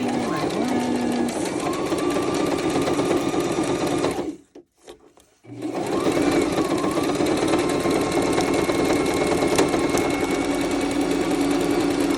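A sewing machine stitches steadily with a fast, even whirring hum after its bobbin is rethreaded, pausing briefly midway before running again; close up.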